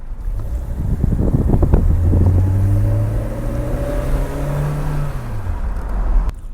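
A BMW E30 accelerating hard from inside the cabin, its engine note rising steadily in pitch through a gear, then settling, with wind and road rumble throughout and no talking.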